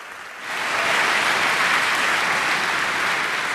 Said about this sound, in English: So please give a big round of applause for Thomas, Dimitri, and Josh